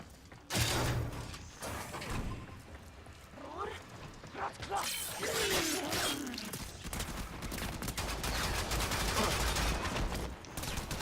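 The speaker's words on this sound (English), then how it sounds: "thing shoots 90 rounds faster than I could shoot 19 from a burst fire gun. But it's that accelerating rate of fire" Rapid automatic gunfire whose rate of fire speeds up: sparse shots at first build into a dense, continuous rattle of rounds, with a voice talking over part of it.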